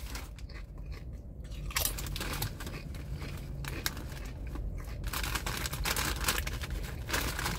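Spicy Doritos Baja Fiery Mango tortilla chips being bitten and chewed close to the mic, a loud, steady run of dense crunching with sharp bursts throughout and no talking.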